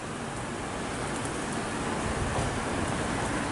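Freezing rain and ice pellets fall steadily over Toronto, a faint, even hiss of precipitation with no distinct drops and no voices.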